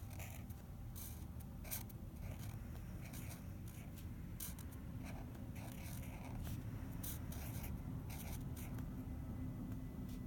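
A pencil scratches across paper in short, steady strokes, a quiet dry rasp with small bursts of scribbling over a constant low background hum.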